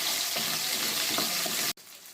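Mustard seeds, garlic and ginger fry in hot oil for a tripe curry, giving a steady loud crackling sizzle with stirring scrapes that cuts off abruptly near the end.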